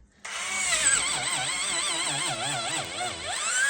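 A Makita 4.8v cordless drill bores into knotty pine, its motor letting out a loud, continuous whine that wavers in pitch as the bit bites, steady for several seconds.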